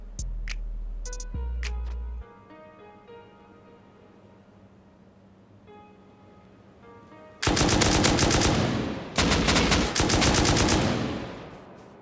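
Turret machine gun fire in a rocket-raiding survival video game base: isolated metallic ticks and taps give way to loud, dense bursts of rapid automatic gunfire in two long volleys, with no talking.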